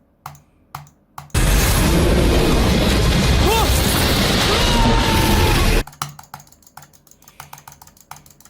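Rapid keyboard typing with mouse clicks in an esports anime scene, a loud dense burst of tapping lasting several seconds, set between quieter sparse clicks and faint sounds.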